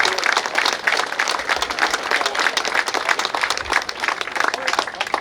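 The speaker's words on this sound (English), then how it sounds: "I do want one more time to give that round of applause for all the MPRCA board members, volunteers, and all their fans who work to make this happen" Board members and volunteers of the MPRCA at a Beech Ridge Motor Speedway event receive a sustained round of applause from a crowd, dense clapping filling the space steadily for several seconds with no voice over it.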